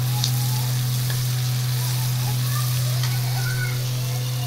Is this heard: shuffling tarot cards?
no